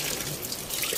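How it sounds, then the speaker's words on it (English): Water gushes into an old top-load washing machine, a steady close hiss and trickle that fills the whole second. "That's the water."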